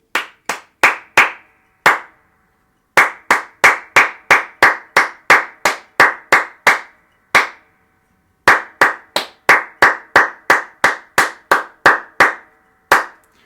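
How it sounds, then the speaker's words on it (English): One pair of hands claps out fingerstyle guitar rhythms in crisp, close, isolated claps, grouped in bursts of quick even beats separated by short pauses, with no other sound between them. "just clap along with me while I'm playing these rhythms"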